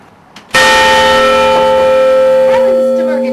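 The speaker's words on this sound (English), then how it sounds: "Hey Pat, are you within reach of pulling on the bell to toll it?" A church bell struck by its hammer sounds a single loud toll with a sharp strike and a long ringing hum that slowly decays.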